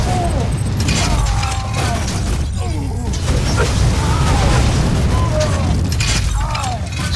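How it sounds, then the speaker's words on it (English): Rocket launcher blasts from a Commando build in Borderlands 2 pound almost without pause, a dense, loud wash of booming explosions and debris over a continuous roar. "Just keep spamming rockets at them"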